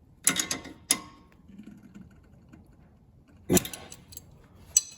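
A Smart Fortwo (451) sway bar bolt, a small Torx fastener, gets its final tightening with a hand wrench, giving a few sharp metallic clicks spaced apart with quiet gaps between them.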